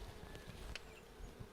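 Honey bees buzz around an open hive during a brood inspection, a soft, constant drone close by with faint scattered handling noises and no talk.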